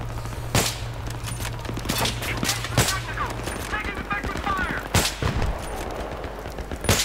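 Battlefield 3 video game gunfire at night: scattered gunshots and short bursts, some sharp and near and others fainter, over a steady game background hum. A voice talks intermittently over it.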